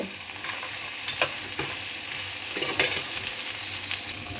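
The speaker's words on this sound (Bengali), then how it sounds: "ভেজে রাখা বড়িগুলো দিয়ে সমস্ত কিছু একটু মিশিয়ে নিয়ে ভাজা ভাজা করে নেব" Potatoes and fried lentil dumplings being stirred in a pan, giving a steady oily sizzle broken by scraping stir strokes, close and alone.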